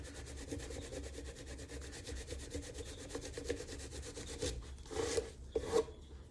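Folded abrasive paper rubs back and forth along the fret wire of a new mandolin fingerboard, making a steady, close scratchy rasp of repeated strokes that ends with a few louder, sharper swipes.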